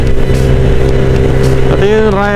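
Motorcycle engine droning steadily while riding at night on a dark, bumpy road, a loud continuous hum under a voice that talks over it.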